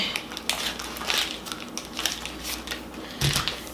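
Crinkly plastic packaging rustles and crackles as ravioli are pulled from a store-bought pack, with irregular close handling bursts and a sharper crunch near the end, no voices.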